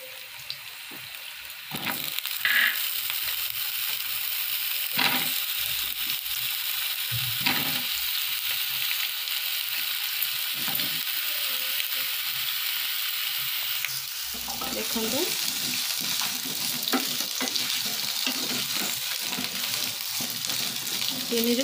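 Potatoes for an Odia-style drumstick potato curry frying in hot oil in a kadai, a steady loud sizzle and crackle with occasional stirring scrapes, continuous throughout.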